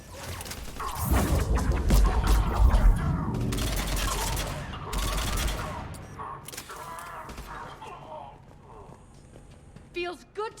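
Gunfire crackles through a battle in the game Mass Effect 3, loud irregular bursts over the first half that thin into scattered shots and clatter, with voices talking amid the fighting.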